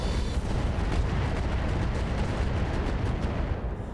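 Mech missile volleys in the RogueTech mod of the BattleTech video game fire as a dense, sustained barrage of rumbling blasts and crackling launches that fill the whole stretch loudly without pause.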